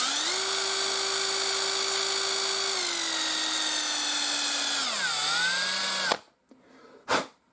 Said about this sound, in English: So I like to use a drill.